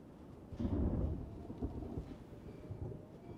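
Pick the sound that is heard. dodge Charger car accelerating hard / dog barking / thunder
thunder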